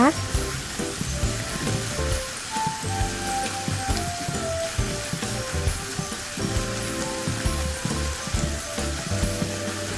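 Pork stir-fried with shrimp paste and neem sizzles and crackles steadily in a pan. A spatula scrapes and clatters in a quick, irregular rhythm, close and fairly loud, with no talk.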